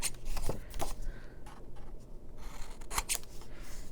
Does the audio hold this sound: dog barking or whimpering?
no